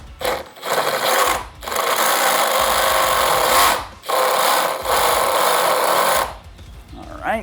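A power drill bores a hole in a motorcycle fairing in three long, loud, close whirring runs separated by brief pauses, with a little motor rumble between bursts.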